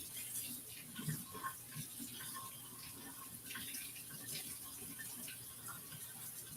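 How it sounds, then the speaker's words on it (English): Hot water from a kitchen tap runs steadily over a jar lid, a faint continuous hiss and splash with small clinks, quiet and close throughout. "I had to run the lid under hot water to get it to open"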